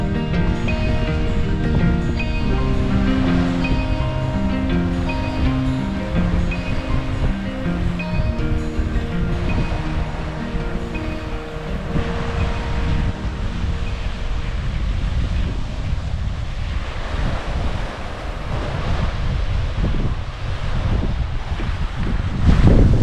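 Waves on the Columbia River at Fort Stevens in Oregon, a steady loud wash of water and surf mixed with buffeting wind noise on the microphone, continuous throughout with no pauses.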